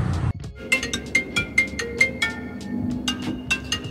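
A mobile phone rings for an incoming call inside a private car, a repeating electronic melody of short bright tones playing alone over low cabin hum.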